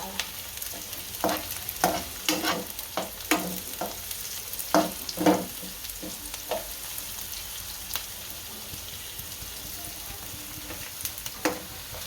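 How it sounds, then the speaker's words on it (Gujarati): Green chilies fry in oil in a pan for Punjabi poha, a steady close sizzle broken by repeated scraping strokes of a spoon stirring them, with no voices. "હવે મરચાં નાખશું, આને ચડવા દઈશું।"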